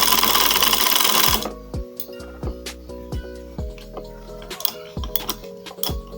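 Small DC motor running on low voltage to drive a homemade mechanical DC-to-AC inverter, a loud whir that cuts out, followed by irregular mechanical ticks and clinks as the mechanism struggles and stutters.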